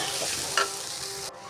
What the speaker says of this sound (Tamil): குடமிளகாயும் போட்டு நல்லா வதக்கி எடுத்துட்டு எடுத்து வச்சுருக்க சாஸை வந்து ஊற்றிட்டோம்